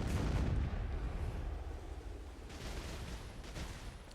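Ship cannon fire against a pirate fleet at sea in Black Desert Online, a loud booming shot followed by rolling rumble and a second lighter report, heard alone without talk.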